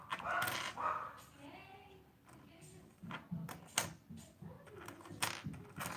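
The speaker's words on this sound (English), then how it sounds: "Sorry if you can hear that, my dog's going psycho out there." A dog barking outdoors in the background while coins clink and rattle nearby, sharp bursts scattered through the scene with a person talking softly early on.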